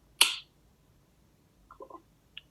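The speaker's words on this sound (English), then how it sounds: "I'm just going to clap because then I'll sync it" A single sharp hand clap snaps out near the start in a quiet room, followed by faint soft movement sounds.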